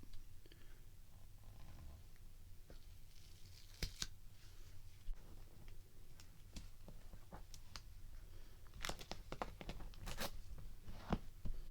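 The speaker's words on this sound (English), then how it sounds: "Basically, I just put tape on it." Tape being pulled and pressed onto a Jaguar car panel, faint tearing and crackling with scattered sharp clicks and rustles, close and quiet over low background hum.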